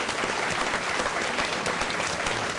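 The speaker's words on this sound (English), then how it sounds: "A big round of applause for Bill Schneider." Audience applause at a talk on US presidential elections, dense steady clapping from a large crowd throughout, fairly loud with no voices.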